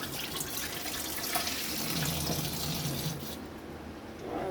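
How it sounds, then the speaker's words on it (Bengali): Cold tap water gushes steadily into a kitchen sink while chow mein is being cooked, a continuous broadband splash that stays loud and even before easing slightly near the end. "ঠান্ডা জল দিয়ে দিলাম।"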